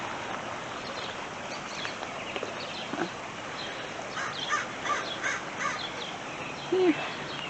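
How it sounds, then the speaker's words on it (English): Crows cawing outdoors on a bright day near a stream, several short harsh calls spaced through the clip, mostly distant and moderately faint over steady ambient noise. "It's a good day for all these birds to have fun."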